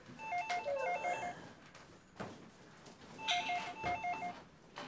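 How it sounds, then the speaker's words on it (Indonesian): An old-style telephone bell rings in two quick trilling bursts separated by a short pause, close by but fairly quiet, with faint room noise underneath. "telepon berdering"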